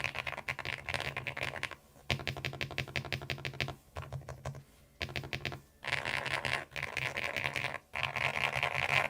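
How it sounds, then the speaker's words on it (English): Steady typing on a mechanical keyboard, dense bursts of soft clacking keystrokes separated by brief pauses, close and clear. "a little bit of a sound test on the CREAMIEST keyboard today"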